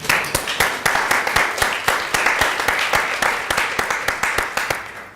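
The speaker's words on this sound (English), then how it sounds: "I think it deserves a round of applause in itself" A round of applause made of steady, sharp, evenly spaced claps that repeat rapidly and closely with no talking over them.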